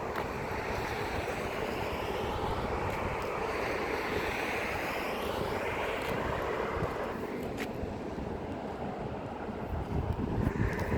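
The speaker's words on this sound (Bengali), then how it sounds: "প্রচন্ড বাতাস আসলে ভিউর্স বাহিরে" Strong wind blows outdoors beside a road, a loud, steady roar of gusts buffeting the microphone throughout, with broadband rushing noise that swells slightly toward the end.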